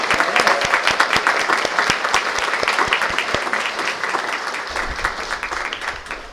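Audience applause welcomes Dr. Brenda Wade to the stage, a steady roar of many hands clapping that holds strong throughout before thinning slightly toward the end.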